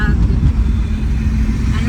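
Steady low car engine rumble inside a moving family car heading to a market, loud and continuous, with a brief voice near the start.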